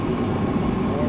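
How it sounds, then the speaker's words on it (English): A portable heater roaring as it warms the cracked engine block of a Jeep YJ, a loud, steady broadband rush without any breaks, with a voice partly audible over it. "we got our little heat dragon going, warming her up."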